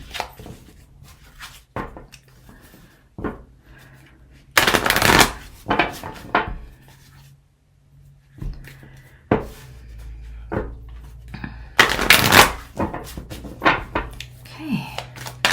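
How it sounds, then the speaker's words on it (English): A deck of angel cards is shuffled in a few quick riffling bursts, with soft card taps and handling rustles between them, close and fairly loud. "I will let 3 cards fall out of the deck."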